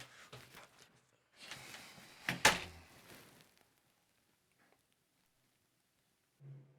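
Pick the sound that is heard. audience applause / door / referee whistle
door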